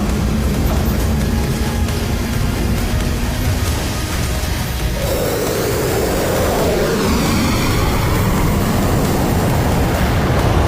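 Military jet aircraft taking off, a steady heavy engine roar building through the run with a rising, sweeping whine in the second half, loud and continuous with no talk.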